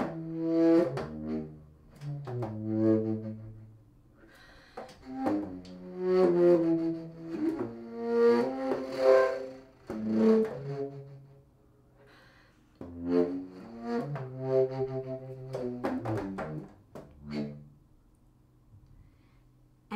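Contrabass flute playing the opening melody of a piece for contrabass flute and drum set, low breathy sustained tones and short phrases with pauses, close and moderately quiet.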